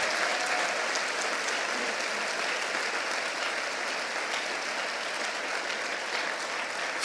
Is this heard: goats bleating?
no